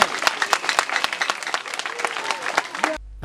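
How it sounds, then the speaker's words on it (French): An audience applauding at a village gathering honouring a 93-year-old teacher, with dense, close clapping that holds steady for about three seconds, then cuts off abruptly. "Acclamez pour ses papas."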